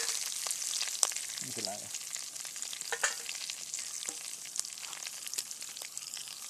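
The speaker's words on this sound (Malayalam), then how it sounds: "കരിഞ്ഞു പോകാതെ മൂപ്പിച്ചെടുക്കണം." Spice powders sizzle and roast in oil in a pan for a rose apple pickle, a continuous close frying hiss broken by stirring clicks, with a brief spoken word partway through.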